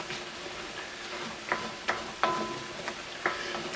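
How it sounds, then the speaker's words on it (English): Eggs and green onions frying in a pan for shrimp pad thai, a steady sizzle under several distinct utensil scrapes and taps as the mixture is stirred, close up. "Just stir that in."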